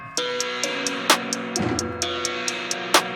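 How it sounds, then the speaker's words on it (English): Open hi-hat in a trap beat, bright sizzling cymbal strikes repeating in a steady rhythm over a sustained melodic bed, with a heavier hit midway and drum accents throughout. "Then I did an open hi-hat"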